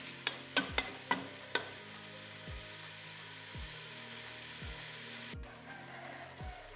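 Tomatoes and meat fry while being stirred, a quiet sizzle under a quick run of sharp metallic taps at the start. Spaced thuds with a falling ring follow every second or so.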